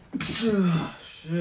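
A man sneezes loudly and close by in a music studio, a sharp explosive burst followed by a brief groaning exhale, and then someone briefly speaks.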